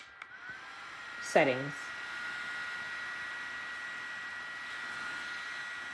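A FrSara portable neck fan runs on one of its three settings, giving a steady airy hum throughout with a brief voice near the start.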